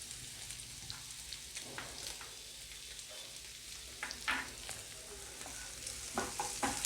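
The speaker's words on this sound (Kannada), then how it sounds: "ಸ್ವಲ್ಪ ಹಂಗೆ ಫ್ರೈ ಮಾಡ್ಕೊಳ್ಳೋಣ" Cinnamon and cloves fry in oil with a faint, steady crackling sizzle, broken by soft stirring scrapes and small pops that get busier toward the end.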